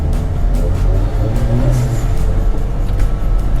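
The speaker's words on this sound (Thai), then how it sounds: "เกียร์ธรรมดานะมันเป็นอะไรที่มันพุ่งจริงๆนะผมบอกได้เลยนะ" A Daihatsu Mira pickup with a manual gearbox, its engine accelerating loudly and close by as a dense, continuous rumble with no speech.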